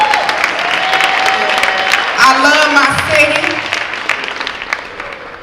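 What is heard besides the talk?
audience applause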